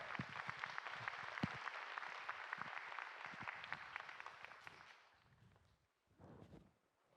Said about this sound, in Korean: 우리 디렉터이신 배준현 목사님 나오실 때 박수로 모시도록 하겠습니다